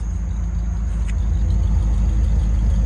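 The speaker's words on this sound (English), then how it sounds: "listen to the nice little rumble this car has" A 1980 Chevrolet Corvette engine idles with a steady, close, low rumble and a faint pulsing throb, mild rather than harsh, and no one speaks.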